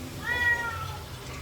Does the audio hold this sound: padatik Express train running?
no